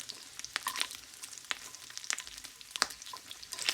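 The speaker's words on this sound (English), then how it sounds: "So as we can see, this bacon is not taking long at all, and it is not a very thick cut." Thin-cut bacon frying in a pan, a soft, even sizzle broken by frequent sharp pops and spits of fat, heard close and alone.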